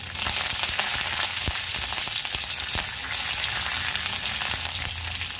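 Ground ginger, green chilli, cumin and curry leaves sizzling in a frying pan, a dense, close, continuous hiss with crackles and occasional stir knocks, no speech.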